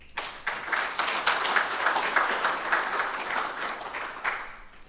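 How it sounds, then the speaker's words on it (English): A round of applause from a conference audience welcoming a presenter on open-source voice interfaces, steady dense clapping for about four seconds that fades at the end. "Round of applause."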